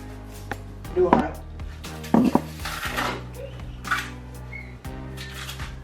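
Knife chopping plantain on a board in a home kitchen, a few sharp irregular knocks with pans and cutlery clinking nearby; brief voices speak around it.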